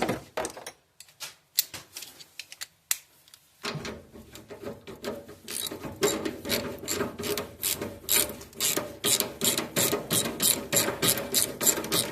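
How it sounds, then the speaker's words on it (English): A socket ratchet wrench turns with rapid, repeated clicking strokes that grow steadier and louder in a regular rhythm, close up with no talk over it. "Got to get him out far enough that I can get onto him with my socket."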